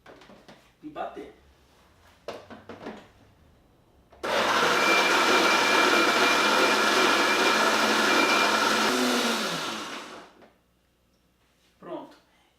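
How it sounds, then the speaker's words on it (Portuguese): Kitchen blender grinding almonds with 500 ml of water, a loud steady whir running for about six seconds before winding down, with quiet talk before and after. "eu vou colocar as amêndoas no liquidificador"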